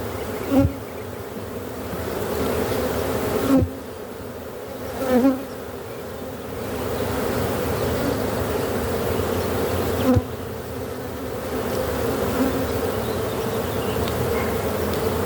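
Honey bees in an opened hive give a dense, continuous droning buzz close by, with occasional louder passes as individual bees fly near.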